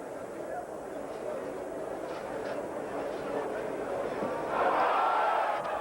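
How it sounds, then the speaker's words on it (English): A stadium crowd at a 1989 West Indies versus India Test cricket match hums steadily in the distance, then swells into a loud collective shout of appeal near the end. "Big shout from the crowd."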